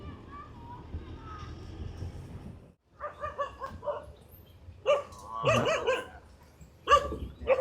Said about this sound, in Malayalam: കുറേ നായ്ക്കളുണ്ട്, ഇഷ്ടംമാതിരി നായ്ക്കളുണ്ട്.